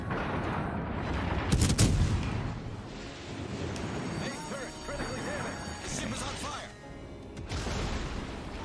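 Naval gunfire in World of Warships, heavy booming salvos and crashing impacts rolling over a steady battle din, with a voice talking over parts of it.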